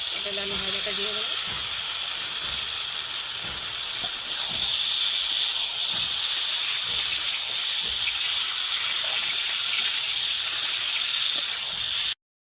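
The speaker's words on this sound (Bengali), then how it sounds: "জলটা ফুটে গেছে" Water coming to a boil in a pan on a home stove while cooking a mustard rohu fish curry, a steady bubbling hiss that runs throughout, with faint low clatter at the start.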